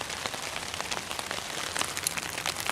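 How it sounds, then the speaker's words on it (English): A hose-simulated downpour hits a Dyneema Cuben fiber tarp, a dense steady patter of drops drumming on the taut fabric with sharp pingy hits scattered throughout. "let's just downpour with the hose to see what a real torrential downpour will sound like"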